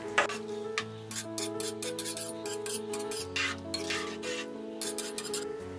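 Vegetable pulao being stirred in a pressure cooker, a spoon scraping and rasping against the metal pot in steady repeated strokes, close and moderately loud, with no talk.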